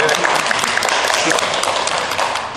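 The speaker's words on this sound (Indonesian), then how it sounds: "tepuk tangan dulu" Audience applause at an informal Indonesian talk with the GM of Laska Subang: dense, steady clapping throughout, with voices mixed in underneath.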